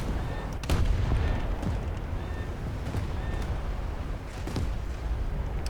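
Loud, continuous heavy gunfire and cannon blasts from a War Thunder tank battle, with a sharp, booming shell impact near the start and further thuds and rumbles throughout.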